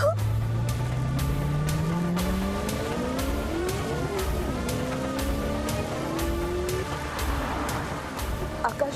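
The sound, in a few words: car being driven very fast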